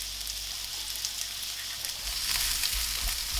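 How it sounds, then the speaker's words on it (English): Steady sizzling and crackling of sausages frying in olive oil in a hot pan, continuous and close, with no talking. "We'll start these frying."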